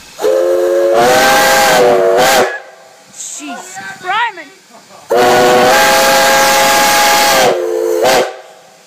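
Two long, loud blasts from the new whistle on a Virginia and Truckee Railroad steam locomotive, a chime-like steamy tone that cuts off sharply, with a short exclamation between them.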